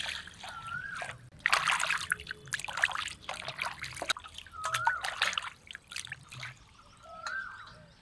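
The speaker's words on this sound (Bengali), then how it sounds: "এখন পরিষ্কার করে মাংসটা আগে ধুয়ে নেই" Water trickles and splashes from a bucket as mutton is washed by hand outdoors, soft intermittent pours and sloshes with faint chirps in the background.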